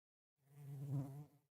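A buzzing fly sound effect from the Fox Hollow game jam, played when hovering over a fly icon: one short, steady drone swelling and fading over about a second, heard alone and clearly.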